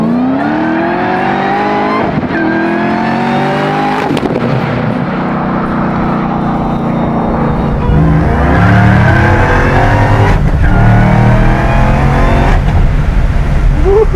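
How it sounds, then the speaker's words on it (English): A 1979 Camaro Z28 with a 755-horsepower LT5 engine accelerates hard, its loud engine roar rising and revving through several pulls with no speech over it. "the car's accelerating and controllable"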